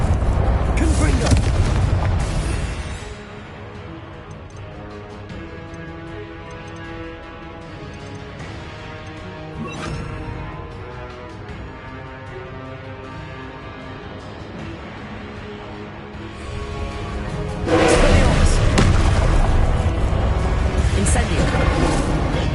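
Confringo explosive spell blasts in Hogwarts Legacy: loud, booming bursts at the opening and again near the end, with a quieter sustained tonal game background in between.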